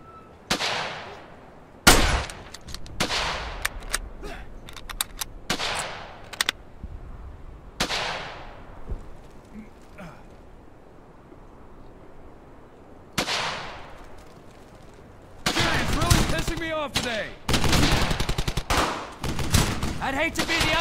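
Bursts of machine gun fire and scattered gunshots ring out across a World War II battlefield in the video game Brothers in Arms: Hell's Highway, loud rattling volleys separated by quieter gaps, with a dense sustained stretch of firing near the end.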